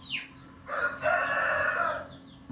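A Thai fighting rooster of about 2.5 kilograms crows loudly and close by, one long drawn-out call preceded by a short sharp squawk, with no talk over it.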